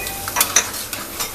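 Chana dal tossed into hot oil in a home kitchen pan, giving a steady close sizzle and frying hiss with a few short stirring scrapes over about a second and a half, no talking.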